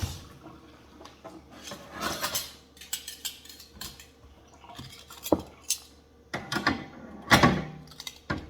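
Metal tongs clatter and scrape against each other as they are washed under hot running water, with irregular clinks, splashes and rubbing sounds at close range and no talking.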